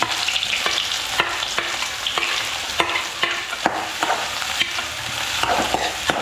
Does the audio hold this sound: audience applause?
no